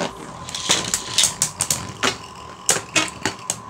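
Dread Bahamut and Lord Spriggan Beyblade tops clash in a stadium battle, giving a rapid, irregular series of sharp metallic clicks and ticks, close and fairly loud, with no talking.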